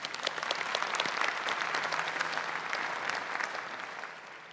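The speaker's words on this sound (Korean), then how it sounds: "큰 박수 부탁드리겠습니다" An audience claps steadily at the rollout ceremony for the KF-21 Boramae fighter jet, a moderately loud burst of applause that holds for about four seconds before tapering off.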